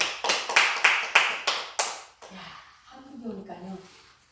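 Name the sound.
audience applause in church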